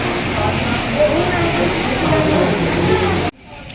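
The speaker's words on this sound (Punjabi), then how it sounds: "ਕਹਿੰਦੇ ਸਵੇਰ ਦਾ ਮੀਂਹ ਪੈ ਰਿਹਾ" Loud, steady rain pouring nearby in a broad hiss that cuts off abruptly near the end.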